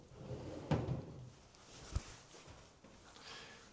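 A drawer slides in a newly installed built-in cabinet in a renovated 45-year-old apartment, giving a soft wooden knock and a brief sharper click a second later, quiet and close in an otherwise hushed room.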